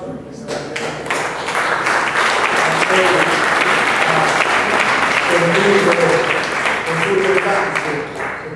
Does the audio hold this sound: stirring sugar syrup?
no